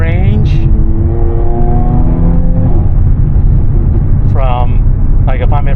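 A Stage 1 tuned Jaguar F-Type V6 pulls hard in fifth gear from about 4,000 RPM, a loud, close, sustained roar whose tone climbs steadily, with a voice cutting in briefly.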